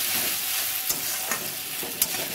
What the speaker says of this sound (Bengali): এটাকে আমি এর সঙ্গে ভালো করে নেড়ে চেড়ে কষে নেব